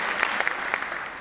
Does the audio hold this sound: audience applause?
yes